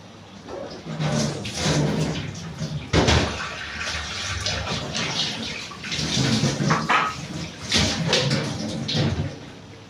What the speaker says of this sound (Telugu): ఇప్పుడు మనం చింతపండు పులుపు వేసుకుందాము